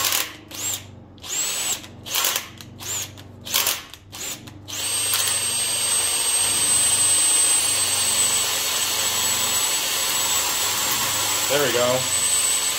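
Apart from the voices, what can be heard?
drill boring an oil passage in a big block engine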